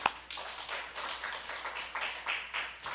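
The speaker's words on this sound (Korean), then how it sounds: "하나님께 영광의 박수 올리겠습니다." Church congregation clapping at a Thursday evening worship service, giving a round of applause to God: a brief sharp tap at the start, then a few seconds of moderate, uneven clapping that rises and falls in loose bursts.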